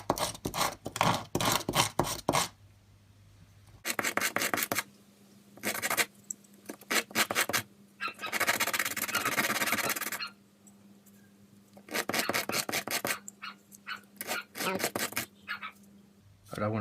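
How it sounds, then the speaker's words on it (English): Sandpaper worked by hand over a plastic weld repair on a laptop table, loud close scratching in repeated bursts of rapid strokes separated by short pauses. "I don't want to sand that back too far because I want it to retain the strength in the joint."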